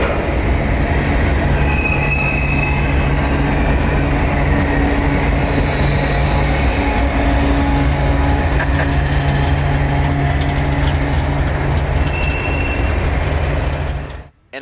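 A northbound freight train rolls steadily past close by in Florida, a loud continuous rumble of wagons with wheel squeal and clanking, holding level until it cuts off at the very end.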